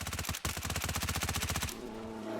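A rapid burst of automatic gunfire in DayZ rattles continuously for over a second, then cuts off into a lingering echoey tail.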